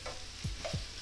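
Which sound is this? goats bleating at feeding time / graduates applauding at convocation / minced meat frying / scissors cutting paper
minced meat frying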